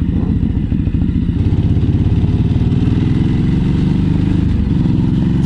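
A 2016 Ducati Hypermotard 939 ridden on a public road, its engine a loud, close, steady low throbbing with a rhythmic pulse, shifting in pitch slightly toward the end, with wind rush above.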